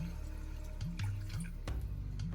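Chicken broth poured into a pot of cheeseburger soup base, a steady liquid pour with gurgling and splashing, close and moderately loud, with no talking.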